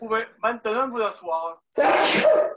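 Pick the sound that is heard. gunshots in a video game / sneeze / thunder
sneeze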